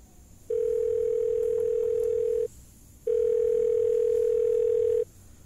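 Loud, steady electronic telephone ringback tone heard in two long pulses of about two seconds each, separated by a short pause, over a quiet background.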